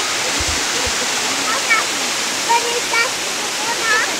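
Russell Falls waterfall in Mt Field National Park, Tasmania: a steady, loud broadband rush of falling water fills the scene, with people talking faintly and briefly over it.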